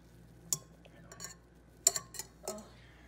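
Ingredients for a tres leches cake being mixed in a bowl, heard as a handful of sharp, quiet utensil clinks and taps spaced unevenly against the bowl in an otherwise hushed kitchen.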